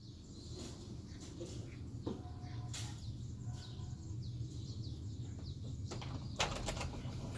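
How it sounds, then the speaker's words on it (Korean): Birds chirp on a morning at home, the calls faint, scattered and brief, sitting over a steady low background hum. "새들이 활기차게 지저귀는 아침이 왔다."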